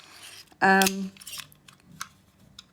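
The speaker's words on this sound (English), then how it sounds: "if you cut metal with your scissors, aluminium foil, aluminium cans" Scissors cut into an aluminium can with a sharp metallic crunch and scrape, followed by a few fainter snips and clicks.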